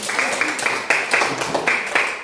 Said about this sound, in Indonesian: Iya, tepuk tangan untuk Karin